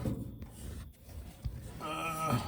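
A metal brace on a 1970 GMC C2500 pickup is trimmed with a hand tool, giving a few close rasping, rubbing strokes with brief gaps, ending in a harsher grinding scrape.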